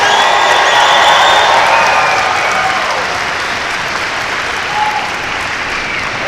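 A crowd at a Parris Island Marine Corps family day claps loudly and steadily, the applause slowly thinning and fading over several seconds with a faint whoop near the end.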